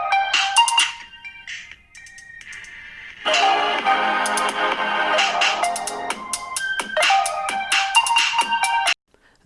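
A melodic ringtone plays loudly through the single bottom speaker of a OnePlus Nord phone, small and tinny, with a short pause and then repeating phrases before cutting off.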